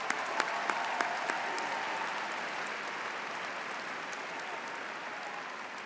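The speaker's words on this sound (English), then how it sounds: "Let's give them a round of applause" An audience applauds graduates at a commencement ceremony, a steady sustained wash of clapping heard from a distance, with a few sharper near claps at the start.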